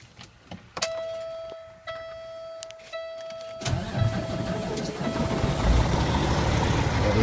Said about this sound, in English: I'm going to start the truck up now.